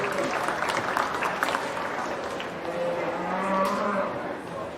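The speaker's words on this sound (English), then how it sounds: "Give those exhibitors a nice round of applause as they exit." Applause at a county fair beef show for exhibitors leaving the ring after an Angus heifer class, a steady crowd clapping in a large hall with cattle lowing faintly behind.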